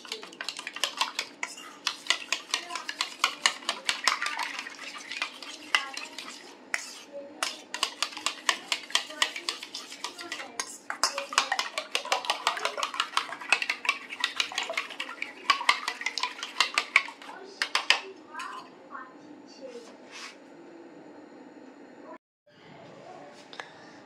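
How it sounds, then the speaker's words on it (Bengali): A utensil beating fish fry batter in a bowl, rapid rhythmic clinking and tapping against the bowl for about twenty seconds, close and loud, then slowing and stopping near the end. "আমি এটাকে ভালো করে ফেটিয়ে নেব।"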